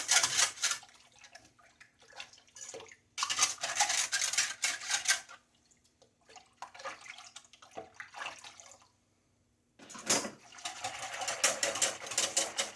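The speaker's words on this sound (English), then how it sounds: "we are going to vigorously whisk this in here" Yogurt being vigorously whisked into milk for mozzarella, several bursts of rapid whisk clatter against the pot separated by short pauses, close and without speech.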